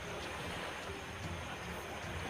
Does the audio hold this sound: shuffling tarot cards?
no